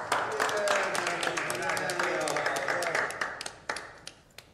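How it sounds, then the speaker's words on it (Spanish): A small group in an Argentine drama applauds a colleague's poetry, scattered close claps breaking over ongoing voices and thinning out toward the end. "Un fuerte aplauso para Alfredo."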